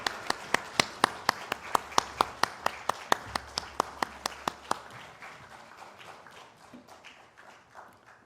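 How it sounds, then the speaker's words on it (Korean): A church congregation at a Sunday worship service claps in a slow, evenly spaced rhythm of sharp, distinct hits that gradually soften and fade into scattered, quieter claps. "박수 올려드리겠습니다"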